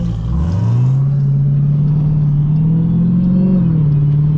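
A Dodge Durango Hellcat SUV drives with a loud, steady engine drone and a whining tone that climbs early, then holds nearly level with a slight dip near the end. No one speaks.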